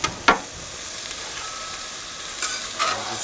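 Beef stew meat browning in a pot with celery, a steady soft sizzle of searing under a couple of sharp clinks from stirring.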